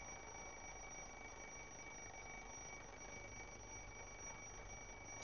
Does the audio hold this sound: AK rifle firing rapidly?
no